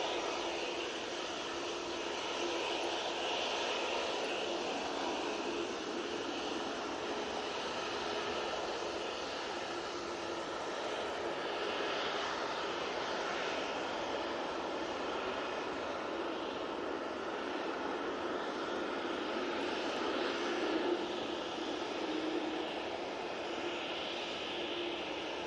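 An Aer Lingus Airbus A380 jet departing Manchester Airport, a long, even, distant engine roar with faint fluctuations, sustained throughout without voices.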